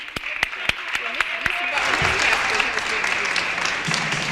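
At a Double Dutch reunion gathering, a few isolated hand claps pop out before a crowd joins in with a full, steady round of applause, with talk mixed in.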